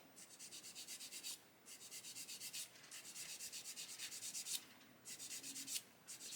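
A mould seam being sanded off a plastic part of a 1/35 scale HobbyBoss Scammell Commander model kit, with quick, steady back-and-forth rubbing strokes in short runs separated by brief pauses, close and soft, with no talking.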